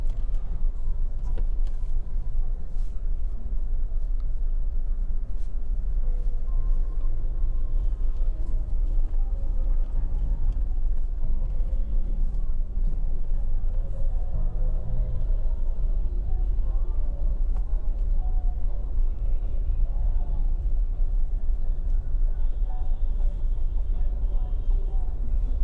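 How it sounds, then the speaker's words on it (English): Town road traffic hums along the Santa Cruz bypass in St. Elizabeth, Jamaica, after a hurricane, with cars and buses rumbling past continuously in low engine drone while someone talks over it throughout. "So it's not too bad today with the traffic, guys."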